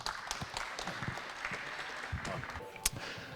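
Conference audience applauding to welcome a speaker onto the stage at the International Astronautical Congress 2023 industry breakfast, continuous clapping with a murmur of voices underneath, moderately loud.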